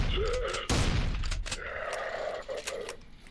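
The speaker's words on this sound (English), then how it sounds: "he has a machine gun" Gunfire bursts in a shooting game, including a loud blast near the start and further rapid shots, with a continuous game soundscape underneath.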